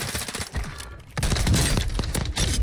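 Gunfire in the Warzone 2.0 shooter game: a dense burst of loud, close shots with sharp impacts, firing rapidly and almost continuously through the second half after a brief lull.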